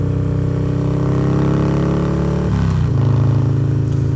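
A custom Harley-Davidson Dyna Street Bob motorcycle rumbles steadily while being ridden, its deep V-twin drone holding close and loud, with a shift or throttle change partway through before the engine note settles lower.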